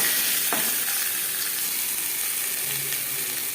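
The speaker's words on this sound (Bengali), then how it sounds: "আলু আমি হালকা করে ভেজে নেব" Potatoes lightly frying in mustard oil give a steady, close sizzle that holds through the clip, with a faint clink near the start.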